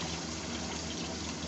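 Chicken goes into a cooking pot together with water for a degi qorma, a close, steady rush of pouring liquid that fills the short moment evenly, without speech.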